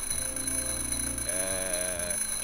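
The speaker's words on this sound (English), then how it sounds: "just testing the smoke detector" In The Journey Down video game, a smoke detector sounds as a steady electronic tone that shifts pitch partway through, continuous and moderately loud over a constant background hum.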